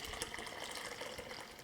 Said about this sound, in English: I will strain it directly into my pitcher with the lemon juice